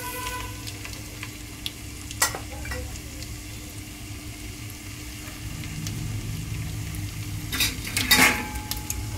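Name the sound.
mustard seeds frying and being stirred in oil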